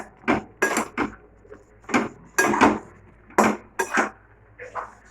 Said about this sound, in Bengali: 1 প্যাকেট 250 সুজি আছে আমাদের। এটা আমি ভালো করে নেড়ে নেবো।